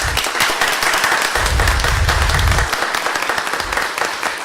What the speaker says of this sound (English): will you please help me give them a big round of applause?